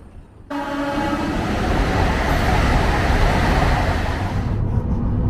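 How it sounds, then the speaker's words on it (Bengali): The Steel Express train starts up loudly after a brief quiet, with a sustained horn tone at first. A heavy, rising rumble of rolling wheels and carriages then fills the rest of the clip. "ট্রেন অলরেডি ছেড়ে দিয়েছে"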